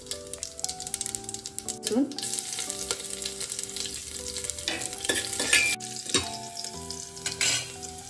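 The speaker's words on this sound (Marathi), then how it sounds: "तेल गरम झालं की फोडणीमध्ये जिरे मोहरी आणि इथे मी हे खडे मसाले वापरणार आहे" Cumin, mustard seeds and whole spices such as stone flower, cinnamon, cardamom and bay leaf crackle and spit in hot oil, a close, busy sizzle with popping seeds and scattered utensil clinks over soft background music.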